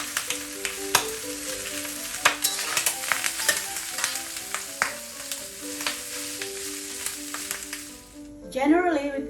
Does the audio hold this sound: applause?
no